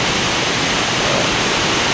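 A strong rushing stream, its water flow swollen and forceful, pours in a dense, loud, unbroken roar with no pauses and no voices.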